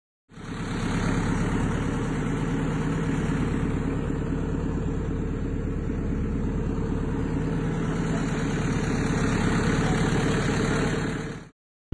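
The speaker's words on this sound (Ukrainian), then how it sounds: "Працює техніка дуже часто важка." Heavy construction machinery at work on a neighbouring plot in Irpin, where a historic house is being demolished: a steady, loud engine drone running unbroken for about ten seconds before cutting off.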